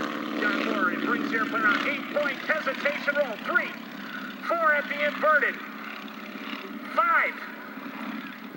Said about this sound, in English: You heard it run out of fuel there.